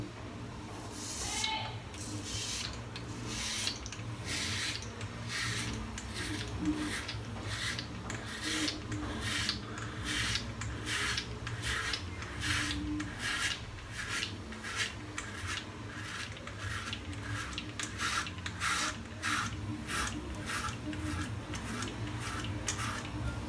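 A stainless steel Headblade S3 Moto razor scrapes across a lathered head in a long series of short, rhythmic rasping strokes, close and crisp, with no talk.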